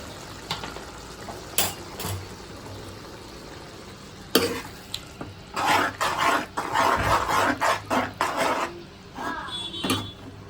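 Egg masala with chilli powder and coriander powder being stirred in a frying pan, with close scraping and clatter strokes and a soft sizzle. Bursts of stirring build in the second half, and a few brief voices come through.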